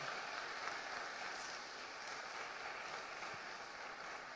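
A church congregation applauds together, a dense, steady wash of clapping that holds at an even, moderate level throughout, heard from a slight distance.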